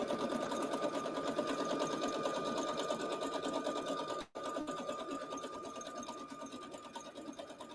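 A sewing machine stitches a beginner's quilt block in a fast, even mechanical run, close and steady, briefly stopping for an instant midway before resuming at the same pace.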